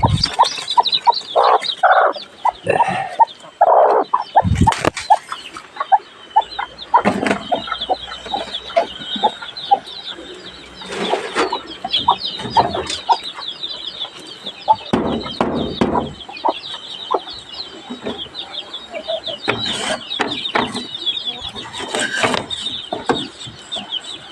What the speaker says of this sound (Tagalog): Bababa na natin ang ating bagong pisa na sisyo.